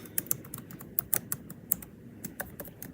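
Rapid, uneven taps on an iPad's on-screen keyboard, close and faint, with crisp clicks spread over a soft background hiss and no talking.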